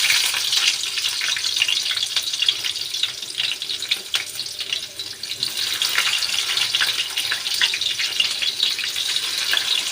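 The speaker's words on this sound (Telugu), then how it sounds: "ఇప్పుడు ఆనియన్స్ వేసుకుంటున్నాను." Sliced onions for a Nellore-style fish curry sizzle steadily in hot oil, a dense, continuous crackling hiss that stays loud and even throughout, with no one talking.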